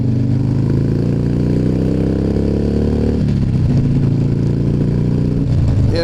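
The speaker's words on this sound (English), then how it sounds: "definitely adds a lot of buffeting and a lot of extra noise into my helmet" Wind buffets a helmet at visor level on a moving Harley Dyna, a loud, steady roar blended with the motorcycle engine's drone, which shifts pitch partway through as the bike changes speed.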